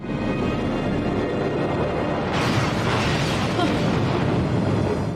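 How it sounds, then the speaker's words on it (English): A sudden loud burst erupts in a Star Trek: Deep Space Nine station lab, followed by a sustained rumbling roar that fills the scene to the end. "Oh my god, it just blew out the lab."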